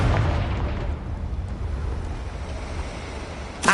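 A Confringo spell explosion in Hogwarts Legacy booms into a deep, rumbling roar that slowly fades across a few seconds, followed by a short sharp burst at the end.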